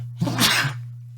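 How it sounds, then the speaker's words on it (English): A single loud, close sneeze bursts out over a steady low electrical hum, followed by a short click. "as I'm about to sneeze."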